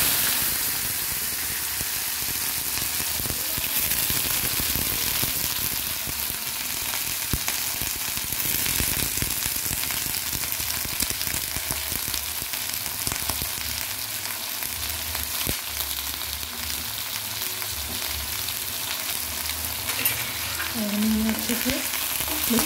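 Green onions frying in a pan after hing and cumin, with steady loud sizzling throughout and scraping stirs now and then, no talking.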